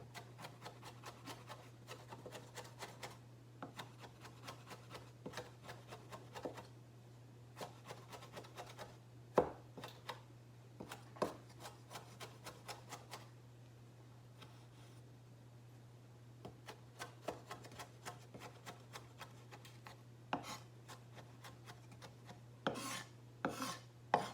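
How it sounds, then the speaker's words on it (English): A knife mincing an ingredient for guacamole: quick, close, rhythmic chopping taps come in long bursts with brief pauses, over a steady low hum. "And I'm gonna mince it just like I did the cilantro."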